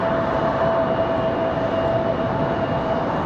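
A JetBlue Airbus A220-300 arriving from Boston at Raleigh-Durham airport gives a steady, loud jet roar with a thin high whine, constant and near, with no talk.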